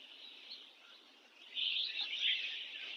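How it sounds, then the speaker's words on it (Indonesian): Many birds calling near a ravine beside staff houses at a transmigration centre, a dense chorus of high chirps that grows louder halfway through, with no talk over it. "Banyaknya burung."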